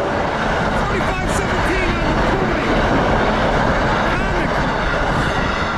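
New Jersey Transit train passing close by on a rail line, a loud continuous rumble with rhythmic wheel clatter over track joints, while a person speaks briefly; no distinct horn blast stands out.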